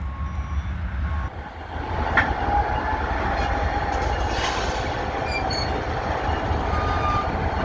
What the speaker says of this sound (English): And there goes the train we've been unintentionally chasing northbound out of the yard.